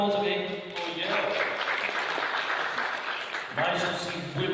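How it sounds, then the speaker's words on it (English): Applause from a conference audience at a DeFi investment summit swells into a dense wash of clapping, with a person talking just before and after it. "Big round of applause again for Yale."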